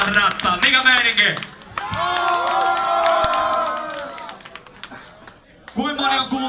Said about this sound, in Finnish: Antakaa pienet aplodit